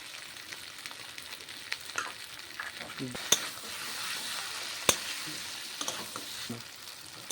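Country chicken with milk and taro stems stir-fries in a pan, a quiet low sizzle broken by occasional sharp clicks and scrapes of a spoon against the vessel.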